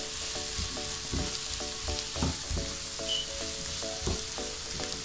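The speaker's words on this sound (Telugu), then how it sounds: "ఈ బటానీ వేసుకుని దీన్ని మళ్ళీ కొంచెం ఇలా ఫ్రై చేసుకోవాలి" Capsicum and frozen peas sizzle in a hot pan for street-style pav bhaji, with steady frying crackle and rhythmic stirring scrapes close by.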